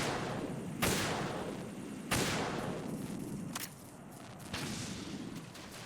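Gunshots ring out in Metal Gear Solid 2, four sharp reports spaced a second or more apart over a constant noisy game background.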